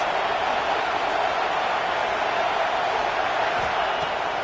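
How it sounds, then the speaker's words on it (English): A steady, loud roar from a stadium crowd at a Penn State vs Texas A&M college football game fills the whole stretch without letting up. "This crowd going to try to make life miserable for these guys."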